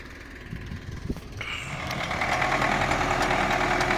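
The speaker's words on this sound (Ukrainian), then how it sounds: "заправили ми обтрискувач і він вже поїхав тропити осінню малину" Tractor-drawn 900-litre crop sprayer pulling away to spray autumn raspberries, a close engine rumble that rises and steadies into a loud drone.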